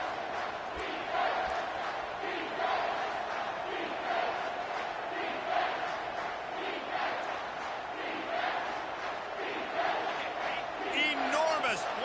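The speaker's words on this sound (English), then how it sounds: "this crowd is bringing down the house" A football stadium crowd roars on third down, a loud, sustained wall of cheering with surging swells, while a voice speaks over it.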